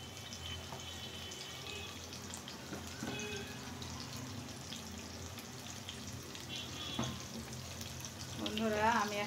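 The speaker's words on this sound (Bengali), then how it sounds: "যতক্ষণ না এটা খুব সুন্দর মতো মুচমুচা ফ্রাই হয় ততক্ষণ আমি এটাকে" Bitter gourd (korolla) frying in a pan toward crispness gives a steady, close sizzle and bubbling hiss of oil that grows somewhat louder at the end.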